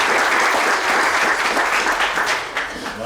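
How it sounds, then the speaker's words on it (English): Near and loud, a conference audience applauds in a round for Tawana at a colloquium on Marikana, a dense, even wash of many hands clapping with no pause. "can we just have a round of applause for Tawana?"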